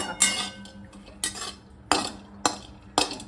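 A spoon stirs cashews and raisins frying in ghee in a pan for rava laddu, giving sharp metallic scrapes and clinks against the pan at irregular intervals, close up and moderately loud, with no talk.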